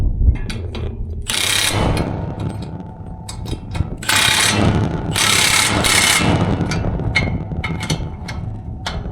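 A ratchet clicks in quick repeated bursts while tightening bolts on John Deere 960 field cultivator sweeps, close and loud, with metal clanks between strokes.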